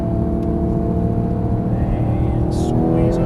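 Porsche GT3 engine pulling hard on a race track, a loud steady drone with a slight rise near the end, heard close from inside the car with an instructor's voice talking over it.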